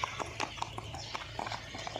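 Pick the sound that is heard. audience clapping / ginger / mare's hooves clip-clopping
mare's hooves clip-clopping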